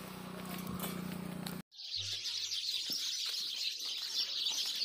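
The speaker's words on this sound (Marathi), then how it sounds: "चिव चिव चिव चिव नुसती." Small birds chirping in a jungle near a riverside ashram, a dense, steady twittering chorus at moderate distance that follows a brief stretch of other background noise and a sudden cut.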